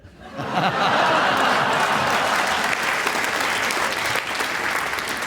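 A studio audience at a radio panel game breaks into a sustained round of applause that swells quickly and holds steady and loud for several seconds, with scattered chuckles and laughter mixed into the dense clapping.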